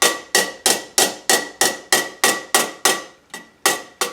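A nylon hammer taps dents out of a tin toy in about a dozen crisp, evenly spaced strikes at close range, each a sharp ringing knock.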